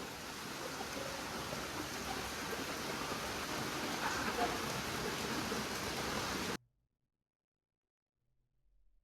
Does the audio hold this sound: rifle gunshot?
no